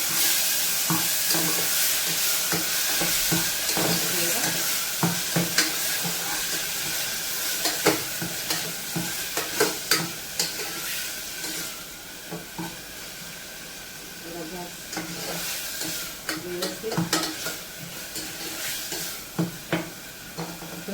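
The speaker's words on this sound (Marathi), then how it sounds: "कांदा टमाटर आणि जे बाकी काय टाकले ना कढीपत्ता वगैरे ते सगळं व्यवस्थित तेल सुटूस तोपर्यंत आपण मस्तपैकी तेलात भाजून घ्यायचे" Onion, tomato and curry leaves fry in oil in a pan, a steady loud sizzle broken by repeated scraping stirs in irregular bursts throughout.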